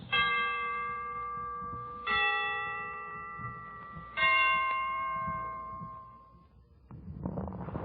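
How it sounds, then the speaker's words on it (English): Christmas church bells ring out in three loud, slowly decaying strikes spaced about two seconds apart, each leaving a long resonant tone, ending in a burst of crowd or orchestra noise on an old radio broadcast. "The Christmas bells can ring anytime they're ready"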